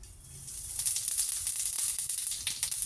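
Cumin seeds hit about three spoons of hot oil in a pan, cooking for a chicken tikka masala fry: a bright, crackling sizzle that swells and pops steadily without any talking.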